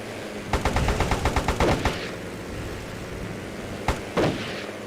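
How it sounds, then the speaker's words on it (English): Rapid burst of gunfire-like shots in a dense, evenly spaced volley from enemy planes firing rockets in the Airfix Dogfighter combat game, followed after a pause by two more isolated blasts. "They are shooting at us with a lot of rockets."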